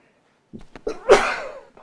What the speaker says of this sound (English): going to sneeze.